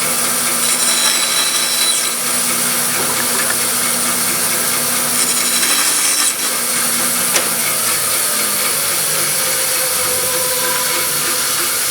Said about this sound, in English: Bandsaw is good, but not great for making really clean cuts.